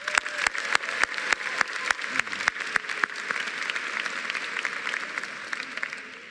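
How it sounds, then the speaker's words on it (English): Graduates at the Norwalk High School / PTECH-Norwalk graduation ceremony applaud, beginning with a few sharp, evenly spaced claps that swell into a dense, steady round of clapping before tapering off. "Give yourselves a round of applause."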